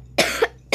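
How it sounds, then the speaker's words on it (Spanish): Two harsh coughs from one person, the first longer and more throaty, the second short and sharp after a brief pause, close up. "Discúlpenme por toser."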